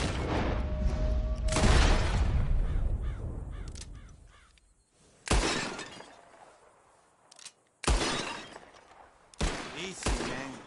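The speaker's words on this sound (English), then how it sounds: "Whoever shoots more of these bottles wins." Bursts of gunfire and shattering glass bottles during a shooting contest in Red Dead Redemption 2, with a sharp crack near 1.6 seconds and three more abrupt impacts later, separated by quieter stretches of ambient game noise and crows.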